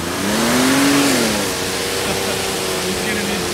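A full-time 4x4 mud truck revs hard while churning through deep, slushy ruts, its engine note rising and falling over about three seconds, close and loud amid splashing mud.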